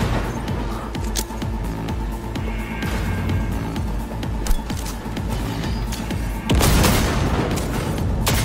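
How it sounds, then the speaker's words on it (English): Gunfire and a heavy grenade blast in the video game Cyberpunk 2077. Dense, steady shots run throughout, and a loud explosion bursts in near the end and rumbles on. "He threw a grenade at me."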